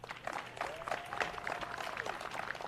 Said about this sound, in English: let's give our future, our youngsters, a clap